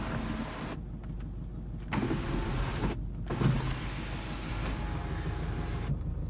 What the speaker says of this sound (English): Electric sunroof is all good.